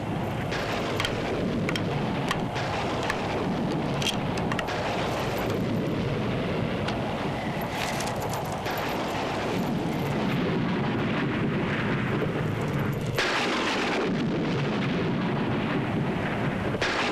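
A stormy night of heavy, unbroken rain roars steadily throughout, with rolling thunder swelling and cracking at intervals, loud and enveloping.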